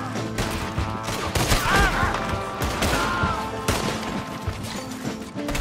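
Bursts of gunshots in Red Dead Redemption during a shootout with bounty hunters, loud and close, coming in irregular clusters with impacts and clatter between them.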